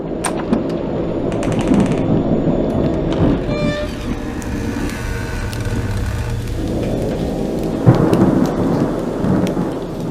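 Thunderstorm with heavy rain in a horror film, a steady roar of rain with rolling thunder cracks and rumbles, loud and close, with no talk.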